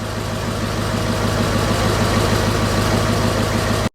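A Squarebody truck running on just one hooked-up battery idles with a steady, loud, close rumble after starting, then cuts off abruptly.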